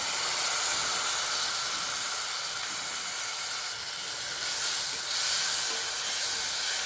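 Finely chopped tomato hits hot oil seasoned with asafoetida in a pan of dal palak base, giving a steady, loud hiss and sizzle throughout with no voices.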